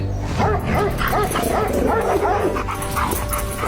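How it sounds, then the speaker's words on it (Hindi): Several dogs racing along bark and yip in a dense, overlapping flurry of sharp, close cries with some whimpering, set over a constant background hum. "ये कुत्ते इतनी तेजी से कहाँ जा रहे हैं?"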